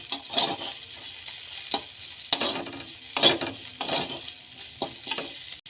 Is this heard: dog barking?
no